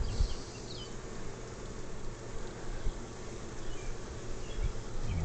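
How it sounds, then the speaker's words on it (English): Swarming bees in a top bar hive, a broad, steady hum of many insects up close, with low thumps and handling bumps now and then. "Look at all them bees."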